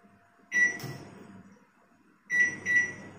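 A microwave oven is set and started, with one sharp electronic beep, a low mechanical hum, then two more quick beeps close by in a quiet kitchen.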